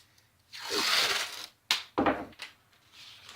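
Strips of 2-inch tape torn off the roll for a wax-paper stencil, giving a long rasping rip followed by two shorter sharp tears, close and fairly loud with no talking.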